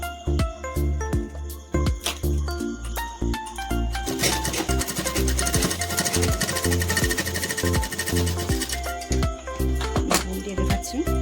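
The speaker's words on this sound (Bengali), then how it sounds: "যখনই সেলাই করা হবে বেশি করে সেলাই দিয়ে দিতে হবে" A sewing machine stitches a pillow cover in steady rapid bursts, its mechanical chatter loud and close, with short stops and restarts over about eleven seconds.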